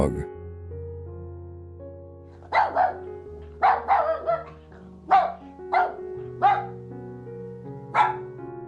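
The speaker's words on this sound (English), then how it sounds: "dog" A dog barks about seven times in quick, spaced yaps over soft background music, close and clear.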